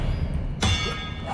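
A disarming spell is cast in the Hogwarts Legacy video game: a single sharp, bright burst with a low thud lands midway, then rings briefly over a steady background hum.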